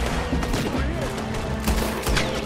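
Gunfire in Red Dead Redemption II cracks out in a few sharp shots over a busy, noisy game mix, with a voice talking partly underneath.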